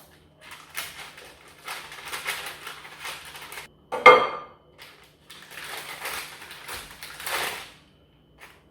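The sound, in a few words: knife cutting homemade butter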